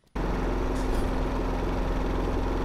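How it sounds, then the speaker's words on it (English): Lawnmower engine in a video game, a steady droning motor hum with a constant tone that starts abruptly and runs on without pause. "He took the lawnmower. He's mowing our lawn."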